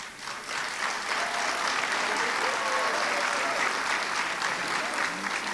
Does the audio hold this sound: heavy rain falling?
no